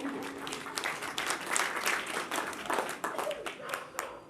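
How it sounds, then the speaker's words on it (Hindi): A village gathering in Kurukshetra breaks into a burst of crowd applause, dense overlapping claps at moderate distance, with voices talking over the clapping throughout. "इनके लिए थोड़ा ताली बजा दें"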